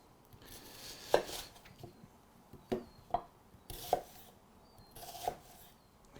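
A knife chops a red onion into bite-sized chunks on a board, producing sharp, irregular thuds spaced about a second apart with quieter scraping between them; no one speaks.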